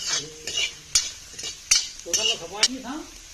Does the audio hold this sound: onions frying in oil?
yes